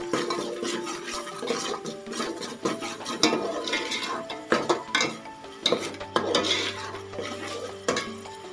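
A spoon scrapes and knocks inside a pot as chicken biryani ingredients are stirred over a low sizzle, with steady irregular clinks and scrapes close by and no talking.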